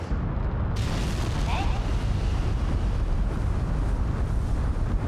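A rocket engine in Kerbal Space Program 2 roars with a dense, steady rumbling thrust that starts abruptly and holds loud and constant throughout.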